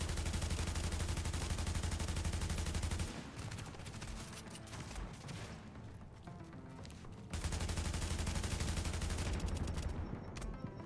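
Rapid automatic fire from an AUG A3P rifle in The Division, a continuous loud burst that breaks off briefly into scattered shots and game effects before the sustained stream of fire resumes.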